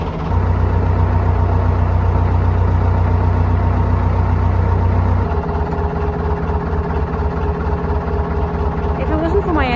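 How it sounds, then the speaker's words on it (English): Boat engine running steadily out on calm water, a loud continuous drone with a deep low rumble that drops partway through, then keeps humming alone to the end. "If it wasn't for my engine, this would be very peaceful."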